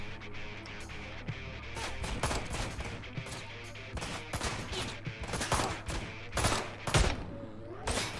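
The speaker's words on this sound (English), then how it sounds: "See, I shot his hat off there with that round." Gunfire in the video game Ride To Hell: Retribution, a string of sharp separate shots spaced irregularly over a low game hum, moderately loud, with clusters of rapid bursts toward the end.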